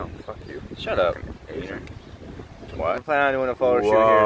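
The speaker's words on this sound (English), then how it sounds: "Sorry for the wind, guys." Gusty wind buffets the microphone in a park, a steady low roar with stronger rushes; several people talk over it, one voice loud and close near the end.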